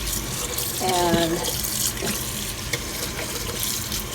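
Kitchen tap running steadily while a turkey is rinsed under it, a continuous hiss of flowing water with splashing as the bird shifts, close by, with a voice speaking briefly over it.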